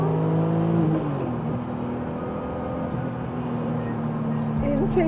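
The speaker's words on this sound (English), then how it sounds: "Intake sound is crazy." Supercharged BMW M3 E36 engine revving up in third gear on the road, a steady rising intake and engine drone heard from inside the car, with a voice talking over it.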